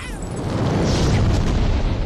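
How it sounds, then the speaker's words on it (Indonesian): A bomb explodes in a film scene, a loud, sustained roaring blast that fills the whole stretch with dense low rumble and crackle before cutting off abruptly. "sebelum pada akhirnya bom itu pun meledak"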